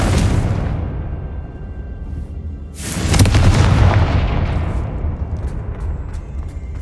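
Confringo fire spell explosions in the video game Hogwarts Legacy: a loud, deep boom at the start, then a second heavy blast about three seconds later that rumbles and slowly fades out.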